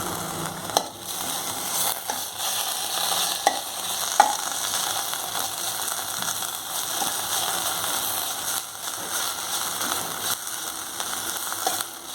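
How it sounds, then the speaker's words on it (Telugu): Onions fry softly in a pan with ginger garlic paste, a continuous close sizzle with occasional stirring scrapes and clicks, steady throughout and without talk. "ఆనియన్స్ బాగా ఫ్రై అవ్వక్కర్లేదు సార్ జస్ట్ కొంచెం సాఫ్ట్గా అయితే చాలు"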